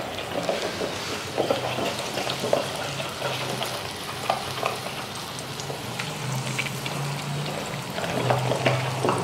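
Ground gongura (sorrel leaf) chutney drops into a hot oil tempering with turmeric, setting off a loud, crackling sizzle with stirring scrapes and a low steady hum beneath, no talking.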